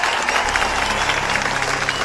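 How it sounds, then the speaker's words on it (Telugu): An audience applauds in a movie scene, dense and loud, the continuous clapping filling the whole moment with a faint crowd murmur beneath. "చప్పట్లు చప్పట్లు."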